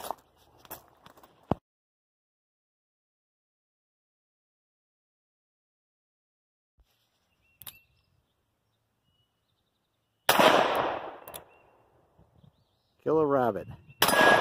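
A Ruger Wrangler revolver firing lead bullets gives a few sharp, sparse reports separated by long silences, each with a short ringing decay, alongside faint knocks and a brief voice.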